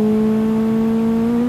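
Old-generation Pessima race or track edition car in the BeamNG Drive video game, its engine holding a steady, loud drone with strong tonal harmonics and no talking.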